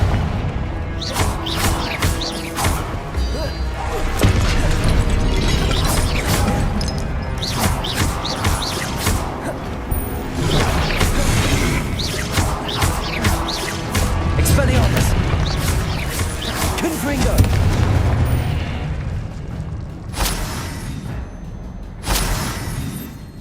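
Spell blasts in Hogwarts Legacy, Expelliarmus and Confringo, firing as repeated loud crackling bursts, booms and thuds over a busy game soundscape, with a voice talking among them.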